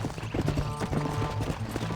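Rapid, steady clip-clop of horse hooves at a gallop in the video game Red Dead Redemption, close and continuous, with a tonal backdrop underneath.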